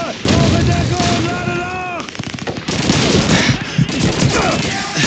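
Battlefield gunfire in Call of Duty 2 during the British campaign's Battle for Caen, with loud sustained machine-gun bursts, rifle shots and booming explosions and voices shouting orders over the din.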